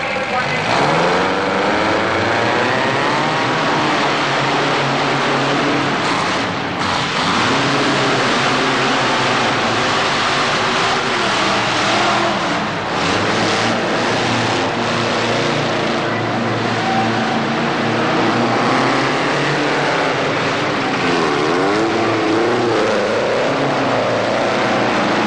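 Monster trucks and jet cars roar at a 1988 motor show, a loud, continuous engine din with shifting revs, and a voice talks over it.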